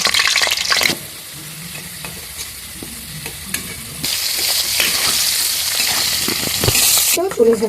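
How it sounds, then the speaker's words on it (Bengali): Potatoes fry in hot oil for a vegetarian festival khichuri, giving a loud, steady sizzle with stirring scrapes and clatter close by and a brief quieter stretch partway through. "প্রথমেই আমি আলুগুলোকে ভেজে নেব"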